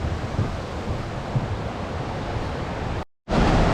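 Water pours over the top of a waterfall at Morialta Conservation Park in Adelaide, making a loud, even roar close by that fills the whole clip, with a brief dropout near the end.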